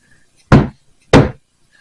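Two sharp metallic strikes about half a second apart as a hammer sets snaps on a leather multi-tool pouch, close and loud against near silence.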